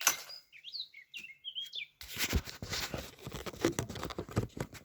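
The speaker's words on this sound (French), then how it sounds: "On a la chance d'être accompagné par des oiseaux, ce qui ne gâche rien." Small birds chirp outdoors in quick, high, scattered calls for about two seconds, then a dense, loud rustling wash of noise takes over and buries them.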